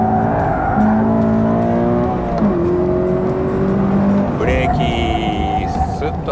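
A car on a closed park training course brakes, releases and rolls, then accelerates again, its engine note rising and falling steadily up close while a driving instructor talks over it throughout.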